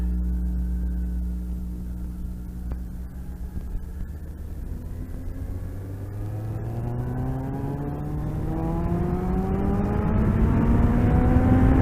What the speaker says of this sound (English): Oh, look at the traffic.